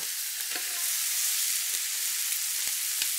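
Pork tenderloin browning in a hot pan gives a steady, bright sizzle that holds evenly throughout, with a few faint clicks and ticks rising above the hiss.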